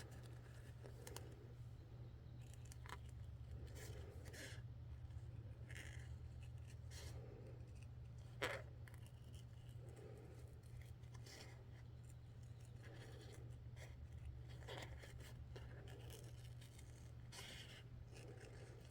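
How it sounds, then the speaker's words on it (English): Scissors trim close around a fabric applique, giving soft, irregular snipping and scraping sounds that repeat over a steady low hum, fairly quiet and close. "take your scissors and just trim about an 1/8 inch away"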